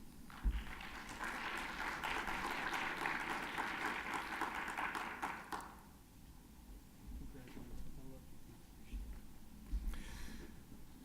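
Audience applause for student writers at an announcements event, a dense round of clapping lasting about five seconds before fading into quieter room noise with faint movement.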